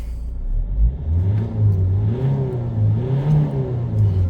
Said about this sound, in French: Le turbo fonctionne parfaitement. Et j'ai récupéré toute la puissance du véhicule.